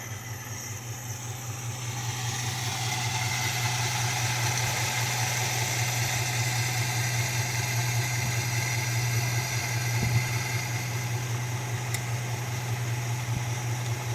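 A 1969 Dodge Dart GT, revived after nearly 12 years of sitting, idles with a steady low rumble that rises in level after the first couple of seconds and holds evenly, nearby, with no talking.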